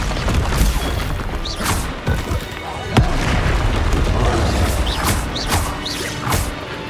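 Blasting Confringo curse explosions in Hogwarts Legacy go off as a cluster of loud booms and bursting pops over dense battle noise, with occasional speech.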